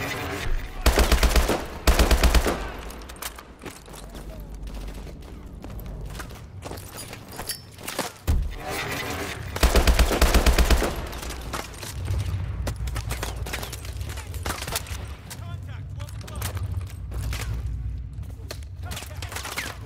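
Video game gunfire rattles in loud automatic bursts, with heavy volleys early on and again midway, scattered single shots and footsteps between them, and background chatter.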